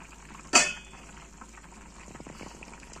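Village-style curry with tamarind juice, moong dal fritters and dried shrimp simmers in a pot; a single sharp metal clank is followed by quiet, irregular bubbling.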